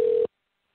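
A single burst of steady telephone ringback tone on an outgoing call, loud and close, cut off after about a quarter second and followed by near silence.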